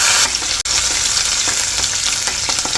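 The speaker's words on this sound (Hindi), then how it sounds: "ये गार्लिक मैंने काट के रखा बारीक बारीक वाला, वो डाल देंगे" Finely chopped garlic hits hot oil for a Rajasthani dal baati meal, giving a loud, steady sizzle and crackle that fills the whole stretch, broken once by a brief dip, with occasional stirring scrapes and no voices.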